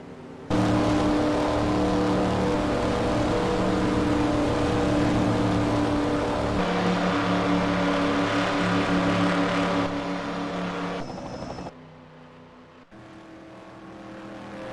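Race cars in a stock car racing video game at Daytona International Speedway roar steadily as they arrive at the finish, a loud sustained engine drone that fades and thins near the end.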